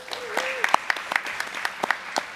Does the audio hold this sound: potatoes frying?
no